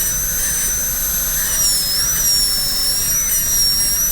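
A dental drill with a burr runs on a tooth during a bridge preparation, giving a loud, steady, high-pitched whine that holds throughout with a faint hiss beneath and no talking.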